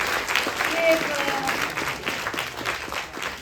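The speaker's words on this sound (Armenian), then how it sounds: "ես խնդրում եմ ձեր բարձր ծափահարությունները բոլոր մեր կազմակերպիչներին" A live audience at the Nran Hatik 2025 event applauds its organisers: dense, steady clapping from a large crowd that fills the whole stretch at an even, moderately loud level, with no voice over it.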